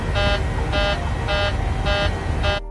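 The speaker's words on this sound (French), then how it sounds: "L'alarme qui retentit" A loud electronic cabin pressurization warning alarm in the cockpit of Helios Flight 522 beeps five times in an even rhythm, each tone about a quarter second, over a constant engine-like roar.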